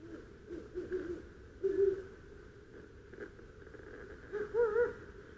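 Adult great horned owl perched in spruce trees gives deep, soft hoots in short bursts, about four calls spaced over several seconds, moderately near against a quiet outdoor background.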